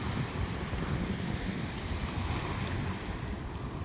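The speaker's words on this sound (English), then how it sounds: "water here and the breaking of all the branches as the power of the water goes through." Rushing river water at a river mouth roars continuously in a dense, noisy wash, steady and moderately loud; no distinct branch snaps stand out.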